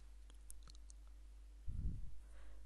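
A computer mouse click while working in Pinnacle Studio editing software: a soft, brief click near the start followed by a quiet low thump, faint against a hushed room background.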